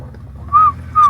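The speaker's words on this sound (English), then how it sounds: "You guys hear those whistles?" Two short, rising-and-falling whistles sound out in a wooded valley, spaced about half a second apart, clear over a low background rumble.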